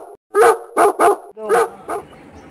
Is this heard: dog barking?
yes